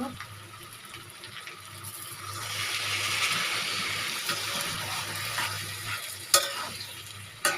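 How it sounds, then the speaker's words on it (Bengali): Water is poured into a hot pan of taro and dried shrimp curry, a rushing hiss swelling for a few seconds over ongoing sizzling, followed by a couple of sharp utensil knocks. "এখন আমি সামান্য একটু পানি মিলিয়ে দিব"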